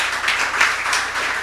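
Brief burst of clapping from a church youth fellowship gathering at a Lutheran church, a short ripple of many hands clapping together at moderate loudness.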